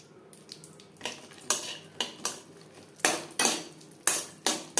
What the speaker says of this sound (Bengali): লো ফ্লেমে রেখে কাজু কিশমিশ হালকা করে ভেজে নেব।